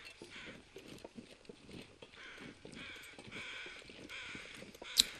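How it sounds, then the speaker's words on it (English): Crows caw faintly in the distance in The Long Dark, a few hoarse calls spread across a quiet outdoor ambience with soft crunching steps and a sharp click near the end. "I hear crows"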